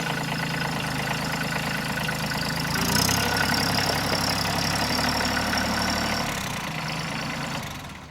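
A tractor engine idles with a steady low rumble and a faint knock while the machine backs out of its detached front loader. The engine swells slightly partway through, then fades toward the end.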